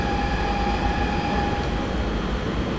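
A train runs in Train Simulator 2018, a steady loud rumble with a sustained electric whine and tonal hum holding throughout.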